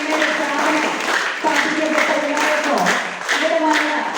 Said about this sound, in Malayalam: നല്ലൊരു കയ്യടി കൊടുത്തിട്ട്